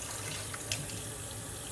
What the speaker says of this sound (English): Pour that water out.